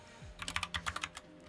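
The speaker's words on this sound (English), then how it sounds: "Mechanical keyboards are certainly louder." Quick burst of typing on a mechanical keyboard, about a dozen crisp clicky keystrokes in an uneven rhythm, close and isolated in a quiet room.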